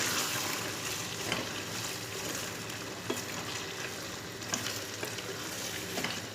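A pan of breakfast food fries after a small splash of water goes in, giving a dense, steady hiss and sizzle close by with occasional light clicks of stirring, no talk.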